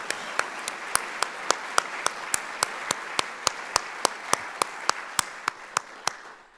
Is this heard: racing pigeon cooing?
no